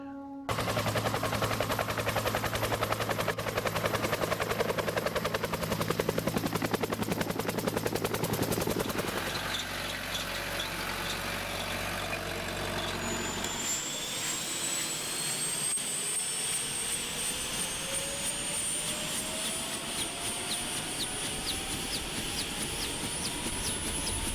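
Bell UH-1H Huey, a Vietnam-era helicopter, lifting into a hover: a loud turbine whine with rapid rotor chop that drops partway through, leaving a rising high-pitched engine tone, close and continuous.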